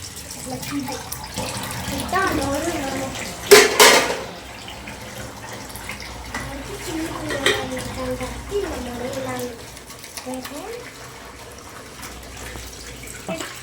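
A child washes dishes and vessels under running water, with a steady tap flow, splashing and one loud gush partway through, while voices talk over it.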